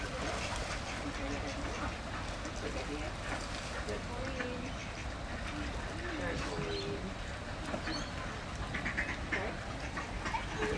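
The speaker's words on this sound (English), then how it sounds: "It looks like we're feeding some ducks down here." Ducks quack at a Japanese garden pond while being fed, their calls scattered and moderately close amid busy outdoor background noise, with people talking throughout.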